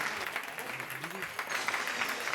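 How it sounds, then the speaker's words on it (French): An audience at a fashion show event claps steadily for a couple of seconds, a continuous wash of applause with faint voices mixed underneath. "je vais vraiment vous demander de les applaudir"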